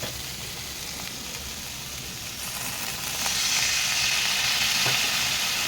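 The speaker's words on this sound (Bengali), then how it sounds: "এর মধ্যে একটু জল দিয়ে দেবো" A spice masala of coriander powder and ginger fries with a steady hiss, then bursts into louder, brighter sizzling as water is added to the pan, sustained and close.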